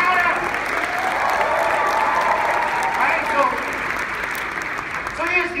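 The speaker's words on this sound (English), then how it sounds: "So give that big round of applause to the company." Meeting audience giving a loud, sustained round of applause, dense and steady throughout, with crowd voices mixed in.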